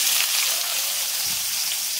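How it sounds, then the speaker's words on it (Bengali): Onions fry in hot oil and ghee in a wok with cardamom, cinnamon and cloves for a mutton curry, making a steady, dense sizzle that stays close and even throughout, with no talking. "তো পেঁয়াজটাকে একটু লাল করে ভেজে নিতে হবে।"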